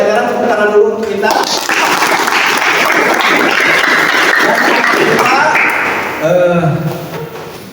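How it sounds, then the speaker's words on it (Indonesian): A classroom of students claps together in a loud, dense burst of applause lasting several seconds, with voices speaking before and after it. "Pelajaran tepuk tangan dulu untuk kita."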